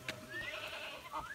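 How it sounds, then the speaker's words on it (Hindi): Mountain goats in a Himalayan valley bleat faintly with short, thin, wavering cries, heard at a distance over quiet outdoor background. "ये आप पहाड़ी बकरियां देख रहे हैं, बकरी है ना, बकरी नहीं।"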